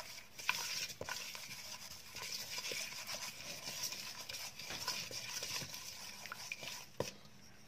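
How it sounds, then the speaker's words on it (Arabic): Ingredients being stirred together with oil in a pot for a beef feet and chickpea stew, giving a steady scraping, sloshing stir with soft clicks of a utensil, close and moderately quiet throughout. "نخلطهم مزيان."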